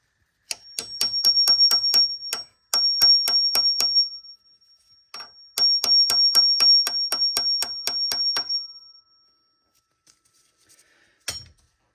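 Steel hammer taps drive a Duralast 11/16 bolt extractor onto a stuck cam phaser bolt on a 3.5 EcoBoost, three bursts of rapid, evenly spaced metallic strikes with a bright ringing tone, close and clear, then a lone clunk.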